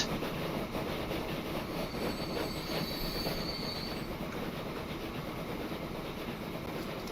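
Trains rolling through a Transport Fever 2 game world, a steady loud rumble of rail cars with wheels squealing and faint clickety-clack throughout, no talk.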